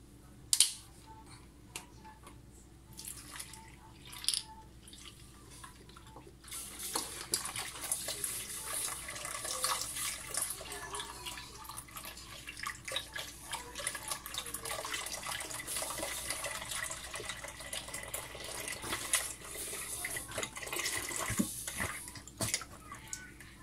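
One litre of milk pours into a pot in a home kitchen, a soft continuous liquid stream with light splashing and a few small clinks near the start, fairly quiet with no talk.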